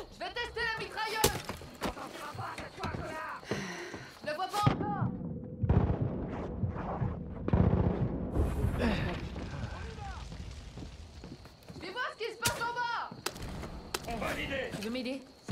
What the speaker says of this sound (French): Je vais tester la mitrailleuse!